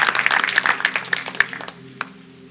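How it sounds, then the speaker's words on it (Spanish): A church congregation applauds during a Sunday morning service: a burst of many hands clapping that thins out and fades after about two seconds, with a sustained tone lingering underneath. "Dale ese aplauso al Señor y ponte de pie esta mañana"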